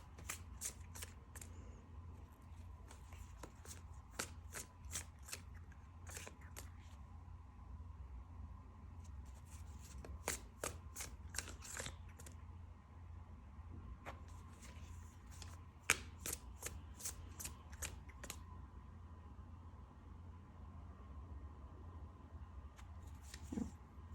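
Tarot cards being shuffled in repeated bursts of quick riffling clicks, separated by short pauses, fairly close and moderately quiet over a low steady background hum.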